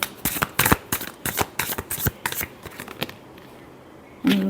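Tarot cards shuffled by hand up close, a quick series of crisp riffling flutters and taps lasting a few seconds before trailing off, followed by a short muffled handling sound.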